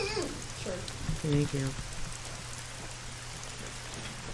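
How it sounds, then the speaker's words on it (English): Rain in the hunting video game The Hunter: Call of the Wild, a steady soft hiss of falling drops under a low hum, with brief speech near the start. "It's raining."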